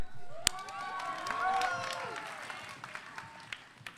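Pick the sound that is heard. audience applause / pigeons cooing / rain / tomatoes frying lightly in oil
audience applause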